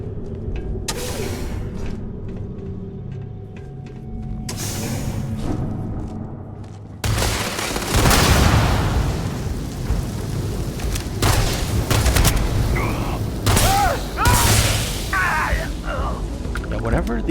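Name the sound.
poison explosions from an ability in the video game Starfield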